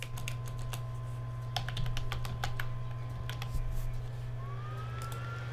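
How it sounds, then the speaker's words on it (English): Keys on a computer keyboard clatter in quick irregular bursts of taps against a steady low hum, with a faint siren rising in the distance toward the end and no speech. "so let me just type in"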